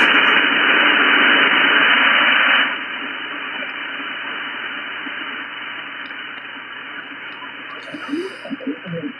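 On the 20-meter amateur band, a steady hiss of radio static buries a weak signal. A loud stretch of noise drops to softer static, and faint garbled voice fragments break through near the end.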